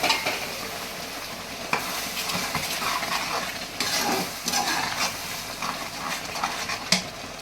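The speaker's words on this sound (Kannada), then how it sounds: "ಈ ಹಾಲನ್ನು ಆ ಖೀರಿಗೆ ಮಿಕ್ಸ್ ಮಾಡೋಣ, ಕ್ಯಾರೆಟ್ಗೆ ಮಿಕ್ಸ್ ಮಾಡೋಣ" Milk and milk-cooked basmati rice being stirred into carrot kheer in a pan: a steady close sizzle and bubbling with a ladle scraping and knocking against the metal pot at irregular intervals.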